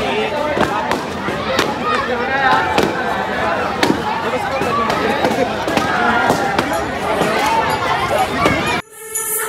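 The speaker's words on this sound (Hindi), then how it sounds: "बट वो पटाखे नहीं बल्कि कुछ लड़के बलून्स को फोड़े जा रहे थे" Balloons burst one after another by boys at a Republic Day celebration with tricolour decorations, sharp firecracker-like pops repeating irregularly over a loud, busy crowd babble before cutting off abruptly.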